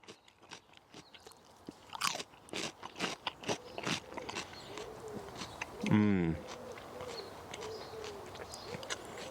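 Loud, sharp crunches of someone biting and chewing the tip of a fresh cucumber up close, a rapid series of crisp snaps, with a brief hummed vocal sound midway.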